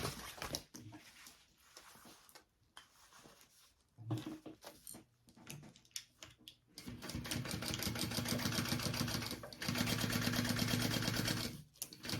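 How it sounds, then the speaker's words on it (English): Sewing machine stitching a tote bag's lining seam, running in quiet bursts that build into a steady, rapid mechanical whir with brief pauses between runs. "And now I'm gonna sew that at my full seam allowance."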